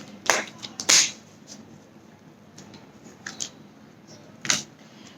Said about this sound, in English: Let me just shuffle more cards.